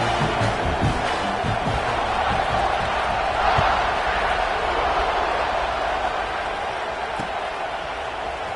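Stadium crowd noise from a football video game, a steady roar of cheering throughout with a slight swell in the middle, heard alone without talk.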